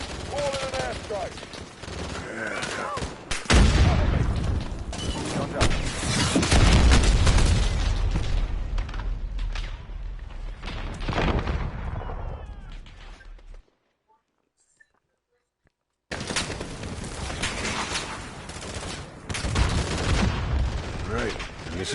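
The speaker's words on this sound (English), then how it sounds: "Alex, call in an airstrike." Video game combat during an airstrike: loud booming explosions and rapid bursts of gunfire fill the first half, cut by a brief silence before heavy firing resumes, with voices talking over the action.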